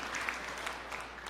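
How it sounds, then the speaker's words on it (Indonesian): Applause from a church congregation at an Indonesian sermon, a steady dense patter of many hands clapping, moderately distant and continuous throughout. "Berikan tepuk tangan yang meriah"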